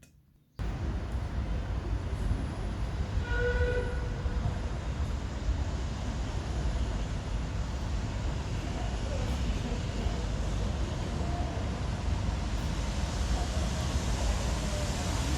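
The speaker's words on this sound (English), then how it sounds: "Next train is now approaching the platform. This is a special service, not stopping here." A special non-stopping train rushes through a London Underground station platform, a loud continuous rumbling roar that starts suddenly and holds steady, with faint tonal announcement sounds early on.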